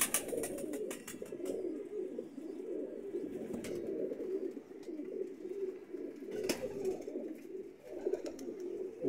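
Teddy pigeons in a breeder setup coo continuously in soft, low, rolling phrases, close and layered, with a few faint chirps and sharp clicks or wing flutters, and no talking.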